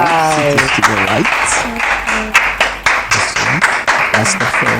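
An audience claps steadily to welcome a guest onto a talk show set, with the applause running under overlapping talk and directions throughout.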